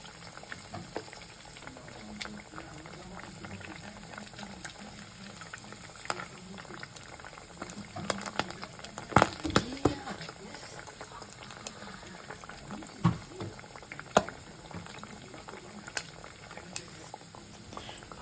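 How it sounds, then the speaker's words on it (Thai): Pork belly deep-fries in hot oil, a quiet, dense bubbling and crackling that goes on for the whole stretch, with scattered small pops and a few louder spits. "ทอดไปเรื่อย ๆ นะคะ จนได้สีที่เราต้องการนะคะ"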